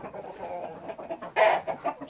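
Leghorn chickens, including young ones, cluck in a coop in a steady, busy murmur, with a louder burst of cackling partway through; nearby birds, no talking.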